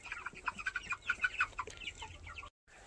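Chickens on a small poultry farm cluck in a busy, overlapping chatter of short calls, fairly close and steady, with a brief gap of silence near the end.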